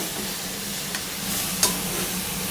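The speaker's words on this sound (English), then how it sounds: "Now, I'm just going to stir these through." Baby corn, water chestnuts and snow peas being stir-fried in a pan give a steady, close hiss of sizzling, broken by a couple of sharp utensil clicks against the pan.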